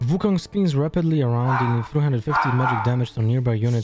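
A dog barks and yips in the background, partly under continuous close talking over a strategy video game.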